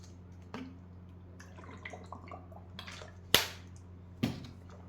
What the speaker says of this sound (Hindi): उससे पहले मैं पानी पी लेता हूँ।